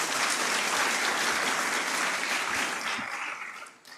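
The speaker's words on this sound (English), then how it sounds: "Can you give a better clap as I finish?" Audience applause at a university innovation week and industry summit, a dense, steady clapping from a large crowd that holds strong for about three seconds before tapering off.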